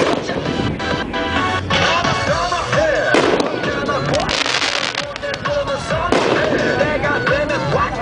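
Consumer firework cake sold as Brawn, also labelled Photo Finish, firing a 16-shot barrage outdoors, with bursts and crackles packed densely and continuously across the whole stretch, loud and close, with people talking over it.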